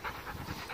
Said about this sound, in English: there's my dog Lou, filthy and mud covered